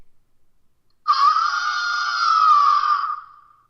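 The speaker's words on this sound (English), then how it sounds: "Then, we hear a horrible shriek." A horrible shriek sound effect in The Magic Door Treehouse, an Alexa adventure game, bursts in after a second of near silence, a loud, sustained, harmonically rich scream held steady for about two seconds before it fades out.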